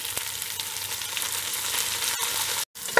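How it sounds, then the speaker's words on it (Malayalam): Chopped tomatoes sizzle steadily in a hot pan while being sautéed for Malabar mutton kurma, a close, even hiss with a brief pause near the end. "നമ്മുടെ തക്കാളി അരിഞ്ഞ് വെച്ചതിനെ ചേർത്ത് കൊടുക്കാം."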